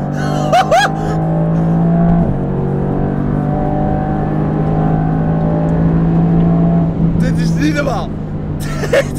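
A Mercedes AMG GT R Pro engine roars loudly from inside the car, its tone holding and shifting as it pulls hard, with occupants talking and exclaiming over it at the start and end.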